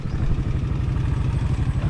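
A scooter engine runs steadily and close by, with a low, throbbing drone and a faint rattly clatter that hold throughout with no break.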